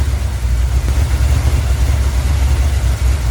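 Deep, rumbling idle of a revived garage-kept car engine, steady and loud up close, with a continuous low throb and no pauses.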